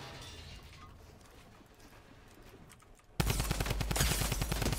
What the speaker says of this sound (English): There's more shots over there.